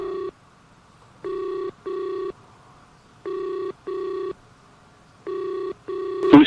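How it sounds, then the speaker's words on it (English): Telephone ringback tone on an outgoing call, sounding in three clear pairs of evenly spaced electronic rings separated by short silences, alone and fairly loud, with a brief burst of noise at the very end. "It's ringing."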